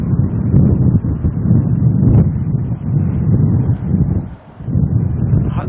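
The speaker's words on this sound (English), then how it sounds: "If it's just wind, I think we'll put up with the noise" Heavy wind buffets a microphone outdoors at an airport plane-spotting spot, a loud continuous low rumble that surges and dips briefly before gusting again, with no voices.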